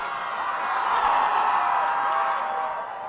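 Steady crowd noise fills the stands at a high school varsity football game between West County and Santa Rosa, a broad, continuous roar of many voices with scattered whoops, loud and unbroken throughout.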